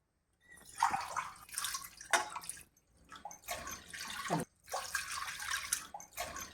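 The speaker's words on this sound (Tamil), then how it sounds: "அதே டம்ளரில் நாலு கப் தண்ணி சேர்த்துக்கலாம்" Four cups of water poured into a kadai for sweet Pongal, heard as bursts of splashing and gurgling in several pours with short pauses between them, close and moderately loud, with no talking.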